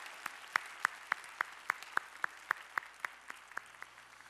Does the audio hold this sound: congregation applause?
yes